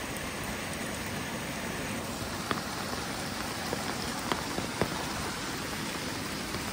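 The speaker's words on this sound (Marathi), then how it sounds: "एकदम खतरनाक पाऊस पडतोय." Steady, dense monsoon rain pours down on village paddy fields without a break, a few louder drops tapping close by, with no voices.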